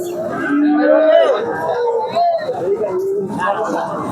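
Cattle mooing and lowing at close range amid a murmur of crowd chatter at the Hazratpur cattle market, with several drawn-out calls overlapping in a busy outdoor setting.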